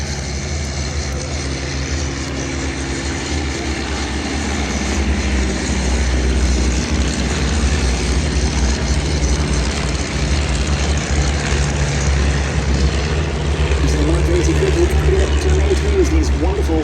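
Vintage propeller aircraft engines at the Duxford Battle of Britain airshow, a steady loud low drone that swells slightly partway through, with a commentator talking over it throughout.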